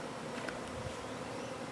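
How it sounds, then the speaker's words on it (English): A cloud of honey bees hums around a newly installed hive, a continuous close buzz with a few faint knocks underneath and no voices. "It's definitely an interesting experience with all these bees flying around you."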